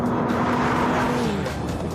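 A Noble M12 sports car roars past at very high speed, near 165 mph, a loud continuous engine and wind rush with a steady tone that falls slightly as it goes by.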